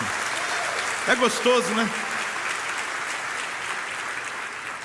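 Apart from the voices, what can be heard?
congregation applause in church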